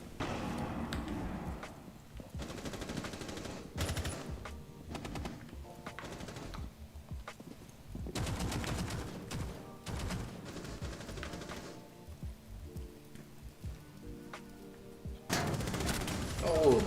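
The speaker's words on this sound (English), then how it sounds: "He is in, sprays onto the Cade from the back." Automatic gunfire sprays in a Rainbow Six Siege pro scrim match between OLMPS and SSK, loud rapid bursts repeating in several clusters with short quieter gaps, the last burst strongest.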